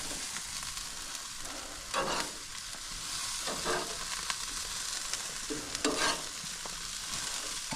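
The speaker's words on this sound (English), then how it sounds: "So I'm going to turn the burgers first." Wagyu beef burgers sizzle steadily on a grill, with a few short scraping bursts as they are flipped, close and moderately quiet, with no voices.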